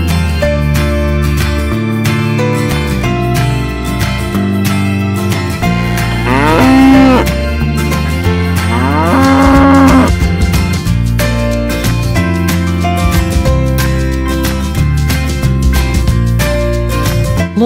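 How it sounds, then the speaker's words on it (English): A farm cow moos in long, loud, drawn-out calls under steady music, with two clear lowing calls standing out in the middle. "Here is the cow. It's coming."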